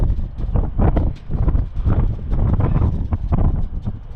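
Strong outdoor wind buffets the microphone in heavy, continuous low rumbling gusts during a spell of fixing things outside, loud and close with no talking over it.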